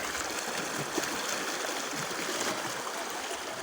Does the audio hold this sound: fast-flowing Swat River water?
yes